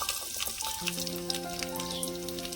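Onions sizzle in a hot pan for coriander rice, a steady crackling fry with a few tonal hums underneath and no talking.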